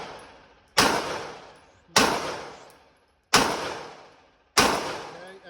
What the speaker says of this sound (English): What I'm going to do is have you continue to shoot until I say he's down.